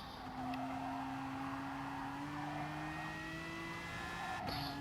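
Race car engine in a racing video game at Monza, accelerating out of a corner with a steady rising drone that climbs slowly in pitch, held throughout at an even level.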